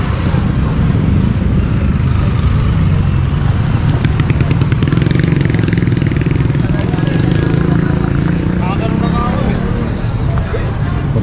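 A motorcycle engine runs steadily during a roadside traffic stop over a license issue, its low rumble continuous beneath busy street noise and overlapping voices of people talking nearby.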